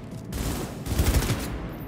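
Assault rifle fire in the Cyberpunk 2077 video game: loud, dense bursts of rapid shots, a short burst then a longer sustained volley after a brief pause, with no talking.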